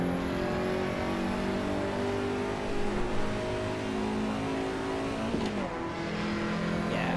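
A Lancia Integrale engine in the BeamNG driving game straining under load, a steady droning rev with layered harmonic whine, moderately loud and continuous with a brief shift in pitch toward the end.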